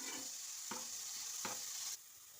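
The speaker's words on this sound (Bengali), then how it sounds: "তেলের মধ্যে ভালো করে আদা রসুনটাকে একটু কষিয়ে নেব।" Crushed ginger and garlic paste sizzles in hot mustard oil, giving a faint, steady hiss, with a soft stir or scrape about every three-quarters of a second before the frying noise drops off.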